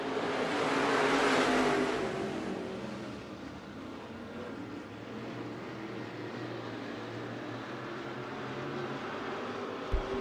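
Race cars restart at Bakersfield Speedway, a loud rising engine roar as the field gets back on the gas, then a sustained, distant droning of several cars circling the track.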